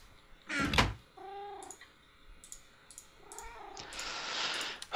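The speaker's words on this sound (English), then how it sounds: "Cats, do not bother me right now." Minecraft cats meow in a game world: a loud burst followed by several wavering, drawn-out meows and caterwauls at moderate distance, ending in a noisy rush.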